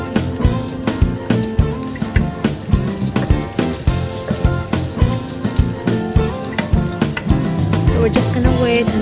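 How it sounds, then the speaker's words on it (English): Garlic, onions and bacon sautéing in hot oil, a loud continuous sizzle with rhythmic clanking of a utensil stirring the pan and music-like tonal layers underneath. "Now the oil is already hot, so now I'm gonna saute the garlic, the onions,"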